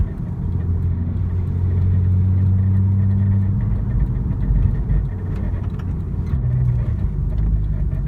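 A 2002 Porsche 911 Turbo fitted with K24 turbochargers drones steadily on a test drive, its engine a low, continuous rumble heard from inside the car with no talking.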